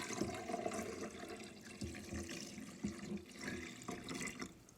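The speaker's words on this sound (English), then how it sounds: "I'm going to put in 4 cups of water." Four cups of water pour steadily into a pot for soup, a continuous splashing rush with faint gurgling, close by and fairly quiet.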